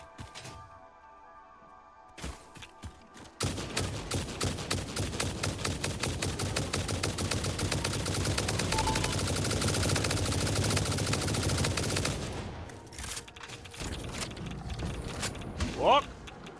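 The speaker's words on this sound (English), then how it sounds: "I made some hyper ammo" Rapid automatic gunfire from hyper ammo in the factory-building game Satisfactory, a long dense burst of shots running for several seconds with game noise around it and talk near the end.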